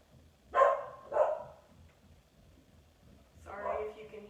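A dog barks twice in quick succession, then again a couple of seconds later. The barks are moderately close and sharp over a quiet indoor room during a home-streamed yoga class.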